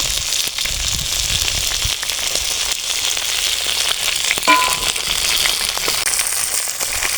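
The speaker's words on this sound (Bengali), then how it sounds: "ভাজা হয়ে গেছে, উঠে নেব।" Tilapia pieces fry in hot oil with a loud, close, constant sizzle, spattered by sharp crackles and pops throughout.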